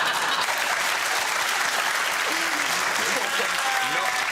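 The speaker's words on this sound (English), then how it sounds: "Not everyone applauding." A television studio audience applauds during a comedy quiz show, loud dense clapping that holds steady throughout, with voices talking faintly underneath near the end.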